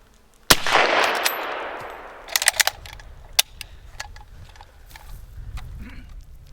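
A Mk I Lee-Metford rifle fires one sharp, loud shot that rings out briefly. A series of crisp metallic bolt-action clicks and clacks follows as the rifle is worked. No one speaks.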